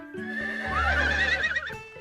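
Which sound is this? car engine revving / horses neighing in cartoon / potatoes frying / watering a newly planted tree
horses neighing in cartoon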